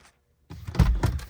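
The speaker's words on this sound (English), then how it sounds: "open the door" Car door opening during a diagnostic session with a scan tool: a brief silence, then a muffled thunk and mechanical clunks of the latch and door, fairly close and moderate in level.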